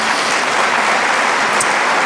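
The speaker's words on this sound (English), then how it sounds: "Give this young lady a round of applause" Loud, dense applause from a convention meeting audience, a continuous wash of clapping honoring an award recipient, steady from start to finish.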